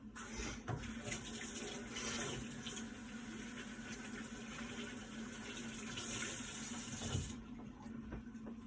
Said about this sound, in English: And I just fill my jars the rest of the way with brine.